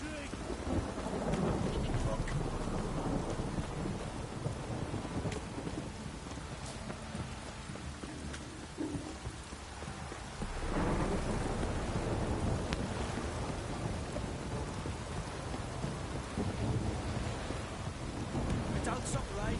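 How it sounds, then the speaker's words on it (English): Heavy rain and thunder in The Witcher 3 downpour: a dense, continuous roar of rain with rolling thunder swelling twice, loud and enveloping throughout, with no clear voices. "This downpour's a bastard in it."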